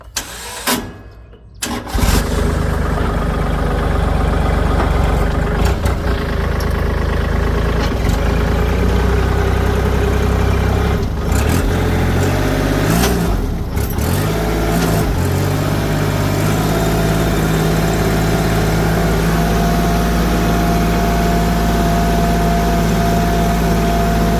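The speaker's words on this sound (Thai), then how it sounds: "มาฟังเสียงเครื่องยนต์กันครับ" A Kubota L3608SP farm tractor with 982 hours on it starts up, then settles into a steady, loud diesel idle that runs close to the listener for about twenty seconds, with a few brief changes in tone early on.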